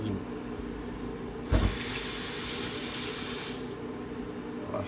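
Tap water runs steadily into a sink as an onion is rinsed for curry chicken, a bright rushing stream that swells with a brief splash near the start and ends abruptly before the clip closes.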